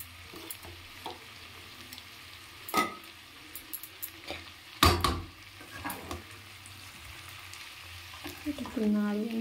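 Food sizzles and fries in a pan on a home stove while a utensil stirs and scrapes it in scattered clinks and scrapes, with a brief louder clatter midway.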